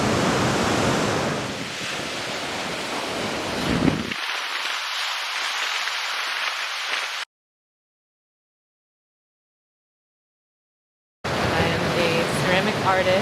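Surf washing onto a beach where clay is foraged, a steady broadband wash heard alone for about seven seconds, then silence, then returning loud and continuous.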